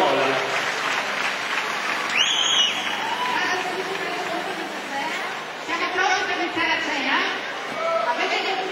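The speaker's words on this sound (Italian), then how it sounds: "veramente facciamo un applauso a Eleonora Lulli di Eventi Organizzazione Ev" A crowd gathered in a town square in Gorizia applauds loudly and steadily, with a whistle cutting through early on and voices chattering beneath the clapping.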